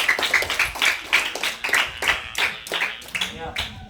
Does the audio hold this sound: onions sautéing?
no